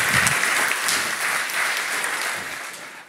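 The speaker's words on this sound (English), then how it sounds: "Hand of applause" Steady crowd applause fills a DockerCon technical session as a speaker is introduced, a close, even burst of many hands clapping that gradually thins toward the end, with no voices.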